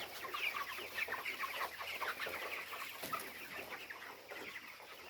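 Chickens clucking and squawking inside a poultry shed, a steady busy flock murmur with overlapping calls at moderate distance, no talk.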